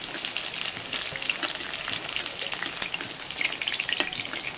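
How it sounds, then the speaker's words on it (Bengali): Pointed gourd (potol) pieces frying in a pan for a curry-leaf dish, browned until reddish, give off a dense, steady sizzle with tiny crackles throughout, close and fairly loud, with no voices. "দেখো পটলগুলো একদম লাল করে সুন্দর করে ভেজে নিয়েছি।"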